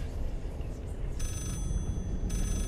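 A telephone rings in the Layers of Fear horror video game, faint, repeated electronic rings heard in two short bursts over a low ambient drone.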